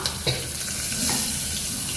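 Loud, continuous sizzling as mustard seeds, cumin, cloves, pepper, curry leaves and peanuts crackle in hot oil for tempering, with a few sharp pops and stirring sounds.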